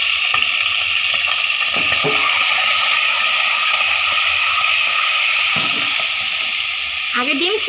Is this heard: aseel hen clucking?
no